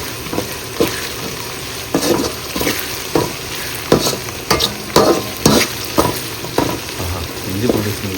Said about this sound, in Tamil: வெங்காயம் இன்னும் கொஞ்சம் வதங்கணும்